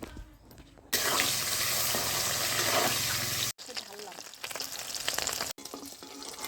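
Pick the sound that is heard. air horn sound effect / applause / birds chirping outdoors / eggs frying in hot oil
eggs frying in hot oil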